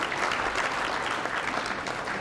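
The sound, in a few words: audience applause for sponsor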